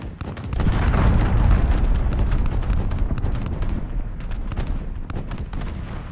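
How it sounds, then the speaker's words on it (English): Cruise missile strikes in the video game Call of Duty: Modern Warfare ground war, a loud sustained rumble of blasts with crackling debris and scattered pops throughout. "Enemy cruise missile, take cover."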